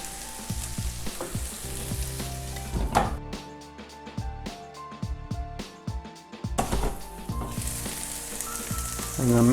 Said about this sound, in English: Now I'm adding the garlic.